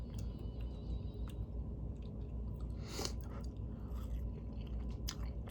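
Someone chews a bite of cheesy waffle close to the mic, a steady soft mastication with a few sharper crunchy bites scattered through, heard alone without talk.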